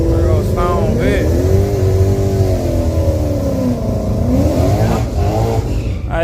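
A Dodge Hellcat's engine revs at a drag strip, rising and falling in pitch several times with a loud, rumbling roar under casual nearby talk.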